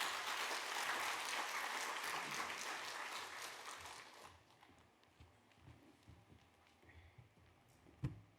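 Congregation in a church clapping to welcome a speaker, dense applause that fills the room then fades out after about four seconds, leaving quiet shuffling and a single knock.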